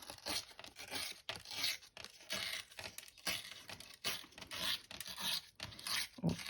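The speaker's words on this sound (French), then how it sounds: "On va tester tout de suite pour déchirer le papier." Thick 200 gram paper being torn in a series of rough, crackling rips, several separate tearing bursts close to the mic with short pauses between, no voices.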